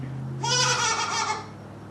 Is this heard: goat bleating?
yes